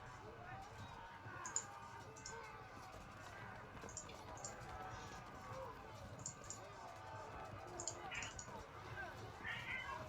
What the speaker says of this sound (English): I don't know why my cat is freaking out.